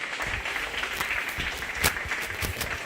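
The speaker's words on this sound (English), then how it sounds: "Give all 8 of those exhibitors a big round of applause" Crowd at a county fair show ring claps for eight livestock exhibitors, a steady wash of mid-level applause with a few sharper individual claps standing out.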